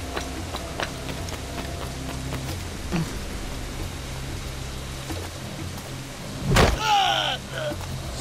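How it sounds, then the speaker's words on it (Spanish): Heavy rain falls over Havana in the video game Assassin's Creed IV, a steady hiss of rainfall throughout with scattered taps, a loud thud or impact near the end, and a voice speaking faintly. "Empieza a llover aquí en La Habana fuerte."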